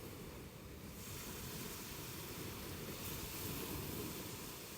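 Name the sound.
ocean waves on a beach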